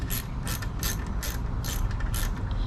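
Fasteners on a swing arm cover for a 2025 Suzuki M109R being tightened with a ratchet, giving six evenly spaced bursts of close, crisp clicking over a steady low background hum, with no talking.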